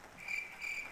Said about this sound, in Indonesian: itu adalah suara jangkrik yang berasal dari sela-sela pohon bambu